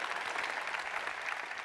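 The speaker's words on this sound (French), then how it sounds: "Vous pouvez vous applaudir." An audience applauding at a French address by a minister at Bercy: a steady, dense wash of clapping from many hands, fairly distant and even throughout, with no talk over it.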